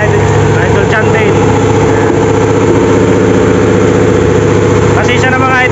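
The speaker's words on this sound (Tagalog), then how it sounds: "maingay po yung makina" A noisy boat engine runs loudly and steadily on a fishing trip around an island, its low drone filling the whole stretch while voices talk over it.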